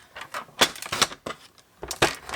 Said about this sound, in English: I'm just going to trim that down a little bit